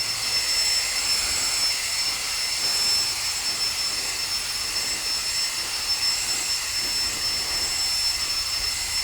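A WORX WG543E 20V cordless leaf blower runs continuously at steady full power, a loud, even high-pitched whine over a broad airy rush, with no pauses and no talking.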